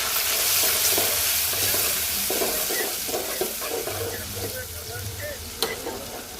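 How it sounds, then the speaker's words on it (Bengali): Chopped onion sizzles steadily in hot oil in a pan while a spoon scrapes and stirs it in a loose, repeated rhythm, close and fairly loud, with a brief clatter near the end. "পেঁয়াজটা ভাজবো"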